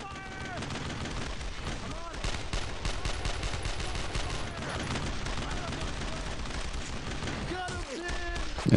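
Dense gunfire fills a World War II battle in the Brothers in Arms shooter game: rapid rifle and machine-gun bursts with explosions rattle continuously, loud and close, while voices shout over the fighting.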